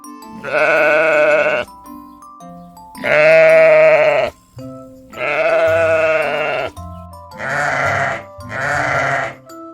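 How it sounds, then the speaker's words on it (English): A sheep bleats five times in separate wavering calls, the last two shorter and quicker, close and clear with no voices. "Sheep says baa."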